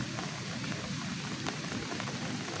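Rain pours over a farm field during a heavy storm, a dense, continuous hiss of drops close by with no voices.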